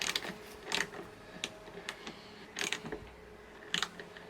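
Spanner work undoing a bolt on a bicycle, a series of faint metallic clicks, creaks and ratcheting turns at irregular intervals, close by with no speech.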